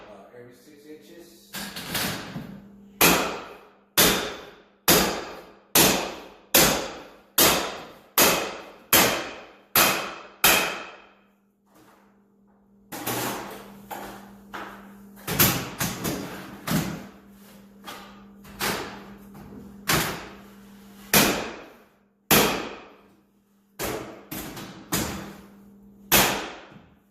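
A corner bead installation tool is struck hard along a drywall corner every six inches, making loud, evenly paced banging thuds, a first run of regular blows, a short pause, then more strikes.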